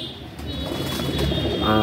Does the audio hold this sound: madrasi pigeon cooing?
yes